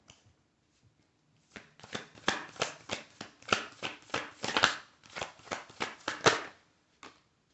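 Tarot cards are shuffled by hand in a run of rapid, crisp riffling flicks, with a few soft taps before and a single card snap after, close and clear with no talking.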